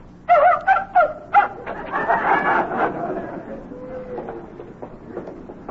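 Dog barks for a vintage Abbott and Costello radio comedy sound effect, about five quick, close yaps in a row, followed by a muffled tail of background noise and faint voices.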